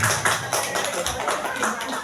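Applause for the mothers at an Indonesian foundation gathering, a steady patter of clapping hands from a group, with a speaker's voice over it throughout.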